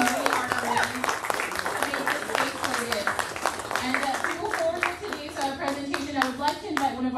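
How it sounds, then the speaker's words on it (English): Audience applause at a ribbon cutting for the Tacos El Plebe restaurant: steady, moderately loud clapping from a small crowd that runs throughout, with people, including a child, talking and calling out over it. "Let's give them a round of applause, along with the staff that have been working really hard for them."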